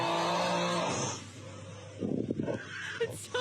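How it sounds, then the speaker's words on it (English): A played snoring sound effect gives one loud, drawn-out snore that trails off into a shorter rasping breath. "It's just someone snoring."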